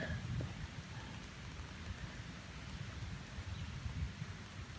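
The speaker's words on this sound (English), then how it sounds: "thunder's way off in the distance." Steady rain pours around a backpacking camp on the Three Ridges Loop in the Virginia mountains, a dense, even hiss of drops throughout, with thunder rumbling far off beneath it.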